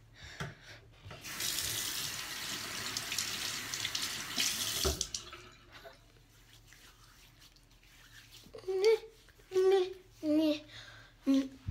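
A bathroom sink faucet runs in a steady close hiss for a few seconds, then shuts off, leaving soft splashes and drips as a face is washed, with a voice and humming sounds over the end.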